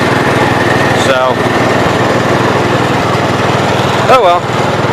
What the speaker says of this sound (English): I think this was originally a 424, and somebody put a 14 horse on it